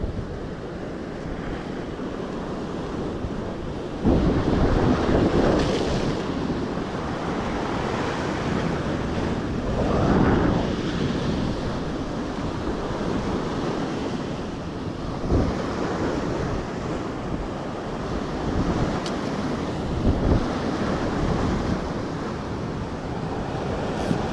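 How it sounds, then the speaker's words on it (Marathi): Steady wind buffeting the microphone on seashore rocks while fishing, with surf washing underneath in a continuous rumbling roar that swells in a few stronger gusts. "आता वारा आहे"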